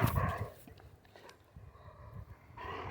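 Puppies whimper and yip in short, high cries over a steady background rumble, with a voice speaking partway through.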